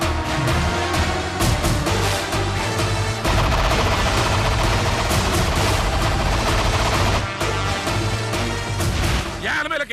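Dense crackling volleys of firecrackers bursting in a Sivakasi film scene, sharp rapid bangs packed close together over a loud music-and-effects soundtrack that runs almost without pause.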